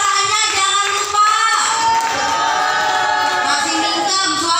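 An audience claps and cheers at a cheerful group therapy session for stroke patients in Pamulang. The applause and voices fill the room steadily and loudly from start to finish, with no single voice standing out.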